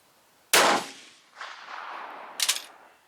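A single loud, sharp rifle shot firing GP-11 ammunition at a range, followed by a decaying echo and a later clanking rattle, with no talking.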